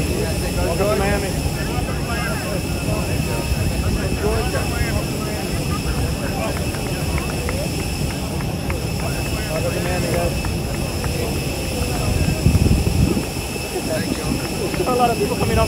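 An airplane's engines drone loud and steady at a Miami airport as the Georgia football team arrives for the Orange Bowl, with people talking and calling out greetings over the continuous roar.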